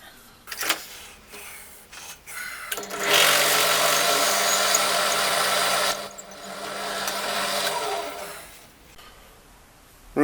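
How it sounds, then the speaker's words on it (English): A drill bores a small recess into a turned Corian piece, grinding loudly in two long bursts with short quiet gaps before and between, close by and with no talking. "what I'm going to do is drill a little increased recess"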